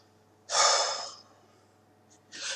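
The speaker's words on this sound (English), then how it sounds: "Let me go ahead and do some woosah moments and some breathing exercises" Two deep, breathy exhalations, slow breathing exercises to calm down: a long, loud outward breath followed after a pause by a shorter one, close and clear with no talking.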